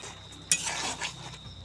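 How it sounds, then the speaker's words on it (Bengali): Spiced taro stolons with turmeric, chili powder and salt being stirred in a pan, a quiet background hiss broken by a few scraping and clinking utensil strokes against the pan. "সব কিছু দিয়ে এখন নেড়ে নেব।"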